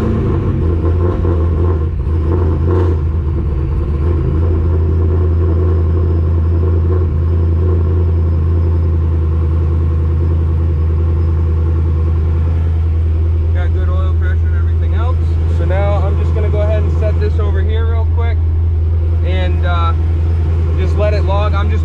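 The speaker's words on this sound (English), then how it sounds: "We're going to go ahead and try to fire this thing." A boosted Pontiac GTO engine idles loud and close with a deep, steady rumble that runs the whole way through, and a person talks over it in the second half.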